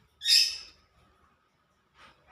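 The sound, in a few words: pet lovebirds chirping indoors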